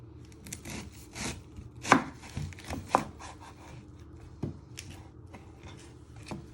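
A knife chopping the ends off an onion on a board, a series of sharp irregular chops with two louder cuts in the middle and lighter knocks and handling between them, no speech.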